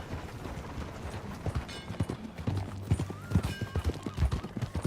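Horse hooves clip-clop at a steady riding pace in Red Dead Redemption II, a rhythmic run of dull thuds with faint background ambience and no talking.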